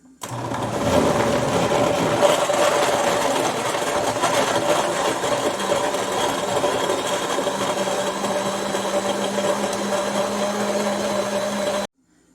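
Blender grinding coconut pieces for a tapioca couscous, a steady, loud, continuous motor whir running unbroken for about eleven seconds before cutting off abruptly.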